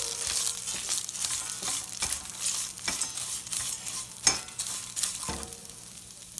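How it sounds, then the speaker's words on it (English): Fried bitter gourd (karela) stirred in a pan, a continuous close sizzle broken by repeated scraping strokes of a spoon at an uneven rhythm, with no voices. "I give it a stir."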